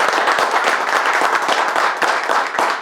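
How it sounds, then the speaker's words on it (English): A loud, dense round of applause from a large audience at a business launch event, steady continuous clapping for the team that carries on for several seconds with no voices over it. "Let's have a loud round of applause for the team."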